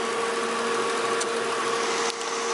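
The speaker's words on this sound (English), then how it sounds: "Pretty much, that's the engine, man." A Volvo 940 with 430k miles runs steadily nearby, producing a constant humming drone with a brief faint click near the end.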